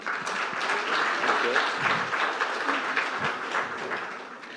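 An audience claps loudly for former army chief General Naravane at the Amar Ujala Samwad Haryana stage event. The dense, sustained applause holds steady for several seconds before tapering slightly.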